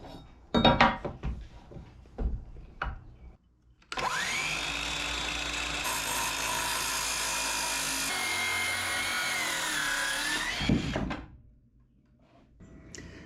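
A power tool cuts spruce boards for a bunk bed frame: a few sharp knocks and scrapes of handling wood, then a loud, steady whine of about seven seconds before it spins down.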